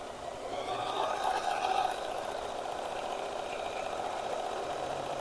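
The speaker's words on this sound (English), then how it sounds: "And we sew our other side." A sewing machine runs steadily, stitching the side seam of a fabric grow bag with a continuous mid-pitched motor hum, a little louder in the first two seconds, with no talking.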